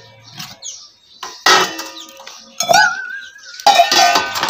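Metal pots and dishes clank and clatter in separate bursts, close by, with short pauses between knocks.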